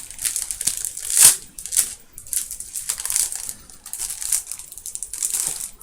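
Plastic packaging crinkles and crackles as it is opened during a cosmetics haul, a series of sharp crisp rustles in irregular bursts, close up and fairly loud, with no one speaking.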